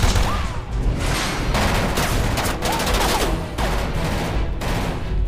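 Bursts of gunfire crack out repeatedly in an action film fight scene, loud rapid volleys mixed with whistling ricochets and crashing impacts in quick irregular clusters.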